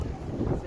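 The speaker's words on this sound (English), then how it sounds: "It's windy today." Wind gusts buffet the microphone outdoors beside a Ram pickup truck, producing a low, rumbling roar that lasts the whole brief moment.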